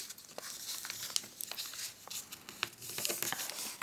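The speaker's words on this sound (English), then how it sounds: "we're going to pinch and fold up to this crease here." Paper crinkles and crackles as it is pinched and folded into an origami face mask, a close, steady rustle with small sharp snaps throughout.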